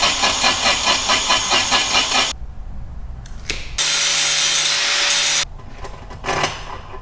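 A metal part being cut off with a power tool in a motorcycle build shop, heard as loud close bursts of harsh rasping cutting that stop and start, separated by short quieter gaps.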